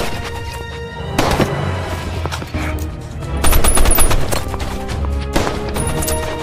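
Pistol gunfire in a heist action film, a series of sharp loud shots in bursts amid crashing action noise and music-like tones.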